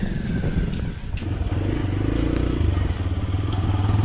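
A TVS Raider 125 BS6 motorcycle runs close by while gears are shifted, its steady mid-pitched engine note changing pitch partway through over a few seconds, with light clatter.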